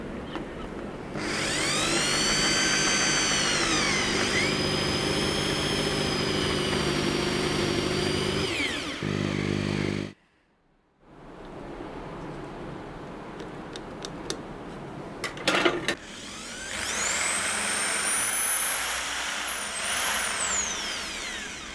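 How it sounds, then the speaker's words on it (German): A drill bores into wood with an 8 mm wood bit, whining loudly for several seconds at a time in close bursts, with a pause between them and a final run near the end. "ich nehme jetzt einen 8 mm Holzbohrer und bohre auf beiden Seiten 2 cm rein"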